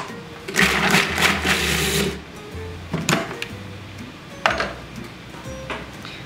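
A food processor purees a portobello mushroom and pecan filling for a vegan Wellington, its motor running in several loud pulsed bursts with short pauses and light clatter between them.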